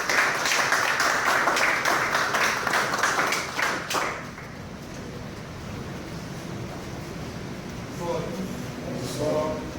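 Audience applause at a sports league evening, steady clapping for about four seconds before fading into murmuring room noise with faint voices.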